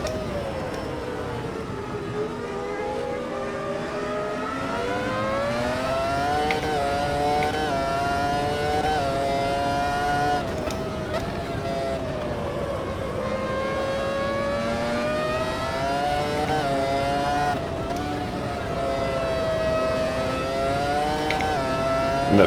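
A V10 race car in Automobilista 2 screams through repeated high-rpm runs, its tone climbing and dropping through gear changes in a loud, continuous engine wail from start to finish.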